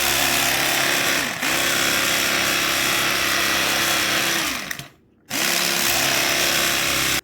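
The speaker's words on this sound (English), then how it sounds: "I got my electric knife out, and I'm going to go ahead and finish slicing up the rest of the pieces" Electric knife slicing a cooked boneless pork loin roast: a loud, continuous motor whine with buzzing blade vibration, easing briefly at one point, then cutting out and restarting for another pass, with no talk.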